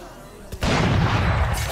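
Gunfire in a first-person shooter game: a short quiet lead-in, then a sudden loud burst at about 0.6 s that stays dense and sustained, like a rapid volley of shots with heavy low booms.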